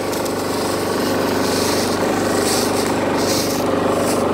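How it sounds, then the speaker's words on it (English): Stihl BR 700 backpack leaf blower blasting through knee-deep leaves, a loud, steady motor roar with a rushing air hiss and faint surges in airflow, very close and constant throughout. "these leaves are almost knee deep, and this blower don't seem to care"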